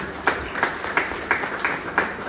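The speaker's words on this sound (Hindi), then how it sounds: "उनके लिए एक जबरदस्त ताली चाहूंगा मैं।" An audience claps together in a steady run of applause, with repeated clap bursts roughly every third of a second at moderate level.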